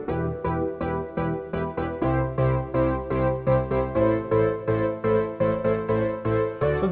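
Roland Juno 60 analog synthesizer plays a sawtooth polysynth part alone, rhythmic stabbed chords pulsing in a steady pattern with short gaps between hits.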